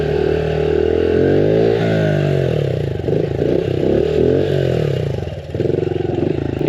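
Honda CRF110 dirt bike engine revs loud and near during wheelie practice, a buzzing single-cylinder drone that swells, dips and climbs again, with rattly mechanical clatter underneath.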